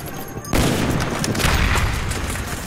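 Enemy gunfire in Call of Duty Black Ops bursts in suddenly and loud after a quiet half-second, a thick volley of shots and booms that carries on for the rest of the moment.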